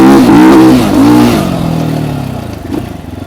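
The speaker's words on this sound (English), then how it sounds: "It's definitely a higher strung engine, so it doesn't really like to lug around." Trailmaster TM38 minibike with a high-strung small engine revving hard during a ride, a loud close buzzing whine that climbs twice, then eases off and drops away as the throttle is released.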